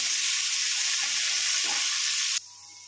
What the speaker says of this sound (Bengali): গাজর বরবটি ভাজা হয়ে গেছে